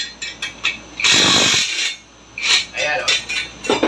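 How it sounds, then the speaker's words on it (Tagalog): A portable impact drill unscrewing a fastener, loud bursts of rapid rattling hammering broken by brief pauses, close by, with no talking. "Ito ang kagandahan ng portable impact drill."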